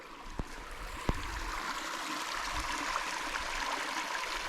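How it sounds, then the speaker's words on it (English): A stream flows beside a wild campsite in the Peak District with a steady, broad rush of running water. Two sharp knocks stand out early on, close to the microphone, over the water's continuous murmur. "Nice water source right next to me."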